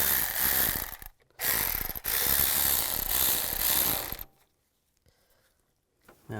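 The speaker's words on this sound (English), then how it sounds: "And tighten down the clamps." Close, loud rapid ratchet clicking as hose clamps are tightened on a 2002-2009 Chevy Trailblazer engine during a timing chain job. Two long runs of clicking are split by a brief gap, then it goes quiet.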